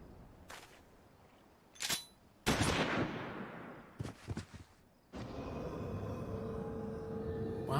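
Video game gunfire: sharp, separated shots burst out amid quieter stretches, with a heavier crack around the middle, and a long, sustained rush of noise rising toward the end.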